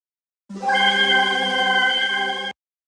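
A bright triangle-wave synth from Psychedelic Synths holds a steady harmonic-rich tone for about two seconds, starting and stopping cleanly, alone and fairly loud.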